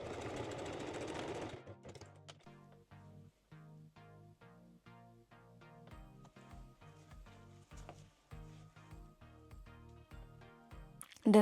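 Sewing machine stitching a small zigzag on a lace wire-free bra, starting with a short loud run, then slow, uneven individual stitches in a rhythmic series of close clunks and taps, with no talk.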